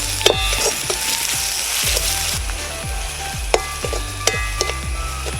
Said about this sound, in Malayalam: ഇനി നമുക്കിതിലേക്ക് ഇഞ്ചി വെളുത്തുള്ളിയും പച്ചമുളകും കൂടിയിട്ട് ഒന്ന് ഇട്ട് വഴറ്റാം.